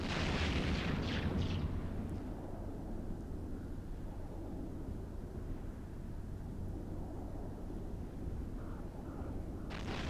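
Battleship guns firing in an Eve Online space duel make a constant heavy rumbling roar with a few sharper crackling bursts near the start and end, dense and continuous, with no voices.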